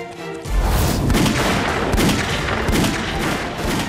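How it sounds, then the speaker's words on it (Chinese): Artillery and gunfire roar through a war-drama battle against Japanese forces, a dense continuous barrage of booms and shots that starts after a brief quiet moment and stays loud and close throughout. "马上调整火力，集中炮火，猛攻前方敌人阵地"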